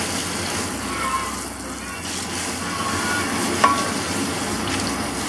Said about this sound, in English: Okay, so I'm just draining this into a colander.